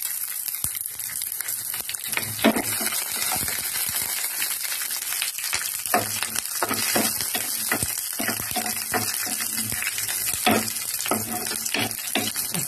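Green chillies frying in a pan of hot oil with onions, a steady close sizzle running throughout, dotted with light crackles and occasional metallic scrapes.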